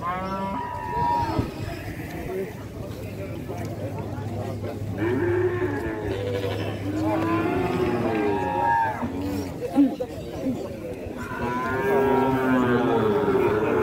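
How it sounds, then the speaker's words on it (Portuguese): Oxen low repeatedly at a cattle fair in São Benedito, Ceará, long deep moos rising over one another close by, with people chattering and talking throughout. "Quem quer comprar uma juntona de boi assim, manso de carro e bonito"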